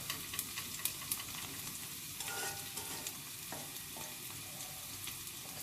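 Onions frying in a steel karai pot give a steady low sizzle with occasional clinks and scrapes of stirring, close and moderately quiet, with no voices.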